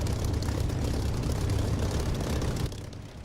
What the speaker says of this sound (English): Let me cut my engine and get repaired.